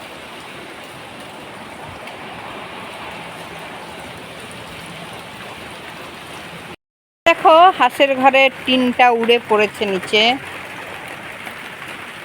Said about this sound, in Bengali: কত আর সইবে বৃষ্টির অত্যাচার